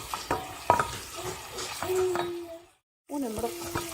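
Chicken with garlic powder sizzles in a pan while being stirred, with scraping utensil strokes and a steady frying hiss, close, broken by a brief silence.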